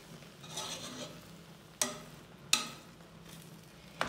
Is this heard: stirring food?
yes